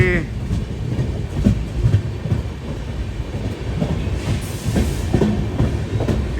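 Express train at Sambalpur Junction, a loud, steady rolling rumble with rhythmic clickety-clack of wheels over rail joints, close by and continuous throughout.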